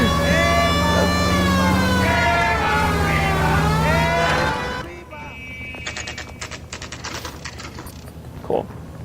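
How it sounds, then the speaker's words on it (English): A police car siren in L.A. Noire wails loudly with rising and falling sweeps for about five seconds, then cuts off, leaving engine rumble and clattering game mechanism noises. "I have my siren on."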